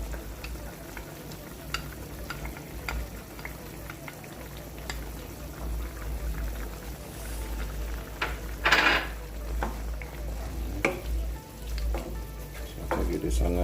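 Jamaican stew chicken with ketchup sizzling in a pot while being stirred, a steady frying crackle under scraping and clinking of the spoon, with a louder burst of sizzle partway through.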